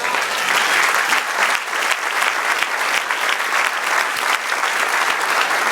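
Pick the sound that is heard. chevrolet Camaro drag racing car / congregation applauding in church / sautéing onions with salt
congregation applauding in church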